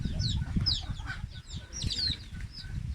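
A group of hens clucks steadily close by, short overlapping calls rising and falling over a low background rumble.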